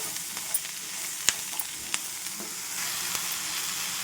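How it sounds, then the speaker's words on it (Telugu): Pieces of ridge gourd fry in a pan for a sweet corn curry, giving a continuous bright sizzle broken by a few sharp spatula clicks and scrapes as they are tossed and stirred. "బీరకాయ ముక్కల్ని కూడా చక్కగా అటు ఇటు తిప్పుకుంటూ అంతా కలిసేలాగా చక్కగా కలయబెట్టాలి మొత్తం కూడా."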